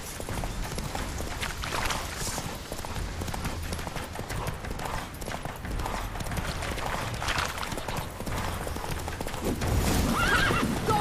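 Roach the horse in The Witcher 3 video game, hooves clip-clopping at a gallop with repeated neighs and whinnies over game ambience, the hoofbeats swelling louder near the end.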